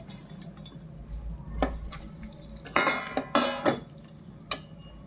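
Drumsticks (moringa pods) mixed with spices in a pan, heard as scattered metallic clinks and scrapes of a spoon against the pan, some sharp and close, over a low background hum.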